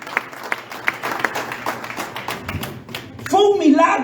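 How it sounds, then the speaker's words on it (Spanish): Church congregation applauding the Lord during a Sunday morning service, scattered sharp claps and taps building into louder clapping, with a voice speaking over the final moment. "Denle un aplauso grande al Señor en esta mañana."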